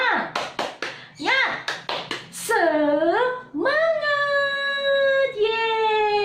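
A classroom of children performs a rhythmic 'tepuk semangat' clapping chant, sharp clustered claps in quick bursts alternating with the group's loud sung chant words, close and lively.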